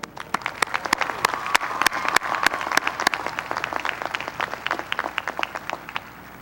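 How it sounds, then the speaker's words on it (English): Scattered, fairly sparse clapping from a commencement audience for a graduating class, individual sharp claps standing out over a soft crowd bed at moderate distance. "Let's give a strong round of applause for our class of 2013"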